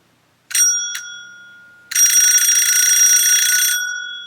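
A Chloride Gent underdome electric bell rings, set up as a small doorbell: two short metallic dings with ringing decay, then a loud continuous trill lasting nearly two seconds, close and clear in a quiet room.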